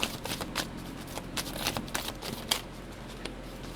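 Tarot cards riffled and shuffled by hand in a series of quick, crisp bursts of papery flutter, close up and fairly quiet, with no voices over it.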